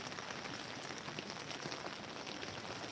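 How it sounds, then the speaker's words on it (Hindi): Heavy rain falling on a terrace garden, a dense, even hiss of drops pattering on surfaces, constant and fairly close with no voices. "आज हमारे यहाँ सुबह से ही बारिश हो रही है बहुत ज़्यादा"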